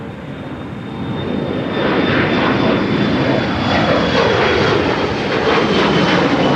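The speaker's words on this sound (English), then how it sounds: "3950, a SkyWest flight with an E175LR is going to be getting off" A SkyWest Embraer E175LR jet roars down the runway on its takeoff run, a loud, steady engine rumble that swells and holds at full power, heard alone with no voices.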